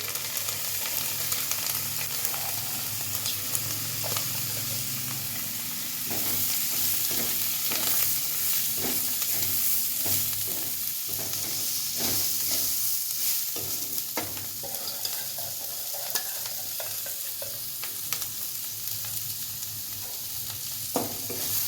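Drained moong dal, with fennel and white cumin seeds, is lightly fried in a pan under a continuous close sizzle, punctuated by repeated scraping stir strokes through the second half.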